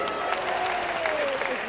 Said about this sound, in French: Est-ce que les femmes peuvent s'applaudir?